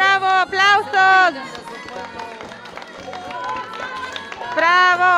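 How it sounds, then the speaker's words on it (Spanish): An audience at a children's contest claps and cheers in loud bursts at the start and end, with a voice calling out over the crowd noise between them. "¡Aplausos!"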